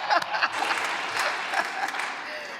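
A congregation claps together during a worship service, a dense burst of applause that holds steady for a couple of seconds and fades slightly toward the end.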